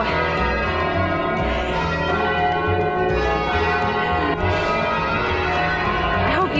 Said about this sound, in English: you can hear those bells, that's really cool.